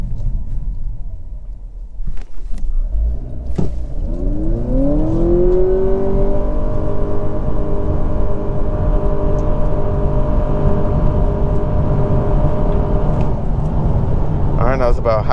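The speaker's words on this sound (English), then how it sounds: "come to a stop, and we'll try out the acceleration" A 2023 Honda Accord Sport Hybrid pulls away hard from a stop up to highway speed, its drivetrain whine climbing steadily in pitch before settling into a loud, even cabin drone, with brief talk near the start.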